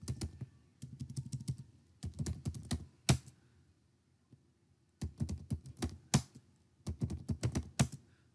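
Typing a passwd command on a computer keyboard during Linux SSH configuration: bursts of close, crisp key clicks come in several quick runs separated by short pauses, with no voices.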